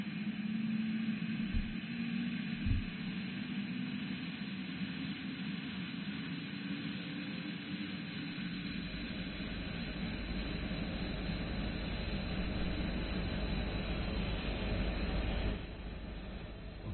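The Airbus H145 helicopter's engine in Microsoft Flight Simulator drones steadily with a broad, constant whine and rumble that deepens midway, then quiets slightly near the end, with no talking over it.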